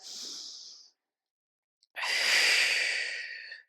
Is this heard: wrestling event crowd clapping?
no